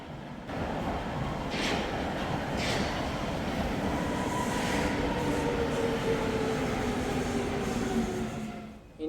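A Hamburg U-Bahn U1 metro train rumbles steadily from inside or close by, with a rising electric whine and a few faint clicks from the track over about nine seconds.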